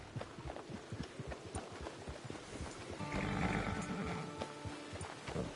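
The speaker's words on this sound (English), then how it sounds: "It's your horse." In the western video game Red Dead Redemption 2, a horse's hooves clip-clop at a steady walking rhythm, fairly quiet, with a brief whinny rising in the middle.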